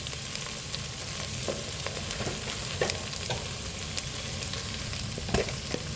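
Cumin seeds sizzling in hot oil alongside cinnamon for a brinjal gojju, a quiet steady crackle with scattered small pops and faint stirring taps.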